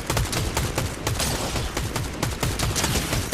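Rapid, continuous gunfire from a Fortnite match, a dense rattle of automatic shots layered with sharper pops that keeps up steadily throughout with no pause.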